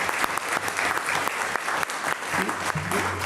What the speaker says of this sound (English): Let's give the staff a great round of applause